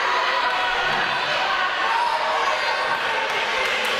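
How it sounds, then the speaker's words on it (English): A wrestling show crowd roars in a continuous, dense wash of jeering voices, loud and steady from start to finish with no single voice standing out. "The crowd get on Scott's case, call him a cheat"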